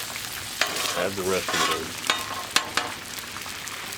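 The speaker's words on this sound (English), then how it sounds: "We're gonna cook our eggs like so." Eggs cook on a Blackstone griddle with a soft sizzle, broken by sharp spatula scrapes and taps as they are stirred around; someone talks briefly over it.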